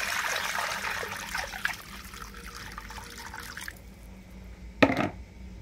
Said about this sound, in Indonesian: Saya tuang santan encer